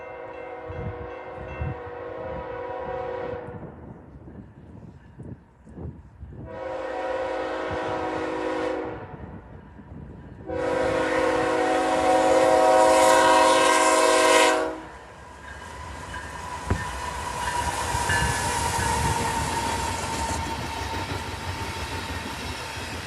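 A train horn blasts in three long sounds, each louder than the last, as a train rumbles past up close at a railroad crossing in winter, with clattering wheels that carry on after the horn stops.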